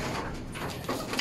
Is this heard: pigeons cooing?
yes